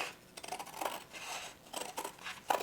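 Scissors cut through paper for a Dollar Tree Valentine's craft, trimming around a frame shape: a few short snipping and rustling passes close by, soft and intermittent, with no talking.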